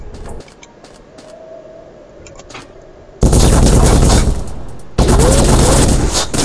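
Gunfire in The Fall: Last Days of Gaia: after quiet ambience, two loud, dense bursts of rapid shots, the second following a short dip.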